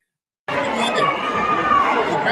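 Murmuring chatter from a large crowd at a concert, a dense wash of overlapping voices that cuts in suddenly after a brief silence and holds steady, no single voice standing out.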